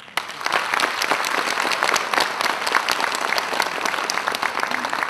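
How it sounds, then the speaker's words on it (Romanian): Sustained applause from a stage-show audience at a special Romanian folk music evening, steady dense clapping that starts abruptly and holds loud and even throughout, with no talk over it. "Haideți să-i aplaudă."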